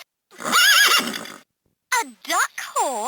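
A LeapFrog Fridge Farm toy horse from 2007 gives a bright electronic neigh, then a second whinny follows in several short pitched bursts, all clear and close with silence between.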